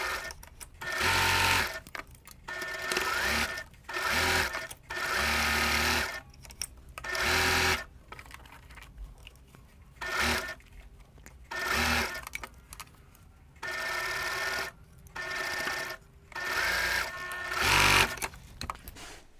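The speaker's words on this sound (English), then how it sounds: "That helps it stay straight and accurate while I stitch." A sewing machine stitches a quilt block seam in repeated bursts of rapid mechanical whirring, each lasting a second or two, separated by short pauses.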